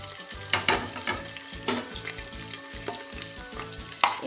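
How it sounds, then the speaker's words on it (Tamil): Onions sautéed in a pan for mushroom biryani crackle with a steady sizzle, punctuated by sharp spatula scrapes and stirs at irregular moments. "வெங்காயம் வந்து நல்லா கொஞ்சம் ப்ரௌனிஷ் ஆகிற வரைக்கும் வதக்கிக்கோங்க"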